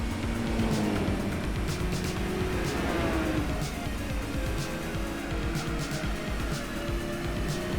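Race car engines in Gran Turismo 4 drone loudly and continuously, with rising and falling engine tones and faint tire noise as the cars race, and no one speaks.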